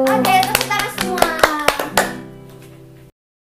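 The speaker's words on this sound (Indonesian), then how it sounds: "tepuk tangan semua" A group, likely children at a Sunday worship service, claps hands in a short burst of a few irregular claps mixed with tapping, with sung or spoken voices underneath, then fading into a lingering tail.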